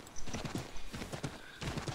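Horse hooves clip-clop in a steady rhythmic gait in the Assassin's Creed 3 video game, close and continuous, with a whinny mixed into the hoofbeats.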